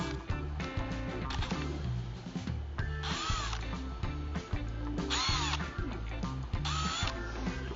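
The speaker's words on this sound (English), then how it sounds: "So we'll go in here and go ahead and just pre-drill." Power drill pre-drilling screw holes in a door frame during installation, several short whirring bursts under continuous rhythmic background music.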